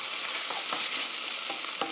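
Tortilla filling cooked down with ketchup in a pan gives a steady, close sizzle, with a few soft scraping stirs of the spoon on top.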